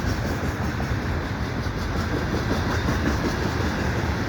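A CN freight train passes at night in winter near highway ramps, a steady loud broadband rumble of rolling wagons with faint clickety-clack throughout, close by and unbroken.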